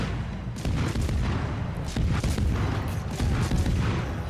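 Bismarck battleship main guns firing in World of Warships, a dense, continuous run of deep booms and rumbling blasts with overlapping low impacts throughout, loud and sustained with no voice over it.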